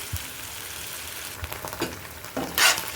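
A veg Manchurian mixture with vinegar, soy sauce and tomato sauce is stirred in a pan, giving low sizzling under scattered scrapes and clacks of the spoon, with a louder burst of stirring near the end.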